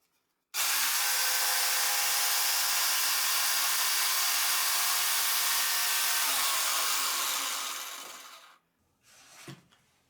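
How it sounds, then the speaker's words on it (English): Jigsaw fitted with an 18 cm blade cutting through wood, a loud continuous buzzing rasp that holds for about eight seconds, then winds down and stops, followed by a brief clunk. "I install the jigsaw blade and I make sure it is perfect at 90 degrees with the metallic base, and I cut until the cutting blade reaches the mark"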